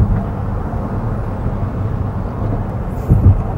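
A car engine pulls under light throttle while driving during fuel-saving runs, giving a steady low drone with a slight swell near the end and no talk.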